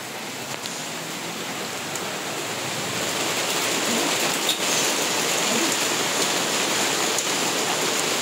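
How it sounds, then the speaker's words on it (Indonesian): Steady rain falling outdoors at a peafowl pen, a dense even hiss that swells slightly louder over the seconds, with no voices. "Aduh hujan."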